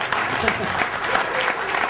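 Audience applause at a talk on the Mahabharata, a dense, steady clatter of many hands clapping through the whole stretch, with speech audible alongside.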